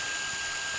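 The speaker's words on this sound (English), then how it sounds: "I'm going to use a drill bit that's the exact same diameter as the rod, and I'm going to try to drill that out" Drill bit boring out a hole to fit a rod for a homemade tri-fuel upgrade, a brief steady high whine of the spinning tool.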